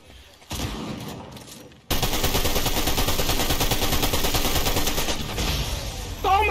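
Sustained rapid gunfire from a bunker shootout in a video game, loud and continuous after a brief quieter opening, with dense overlapping bursts running to the end.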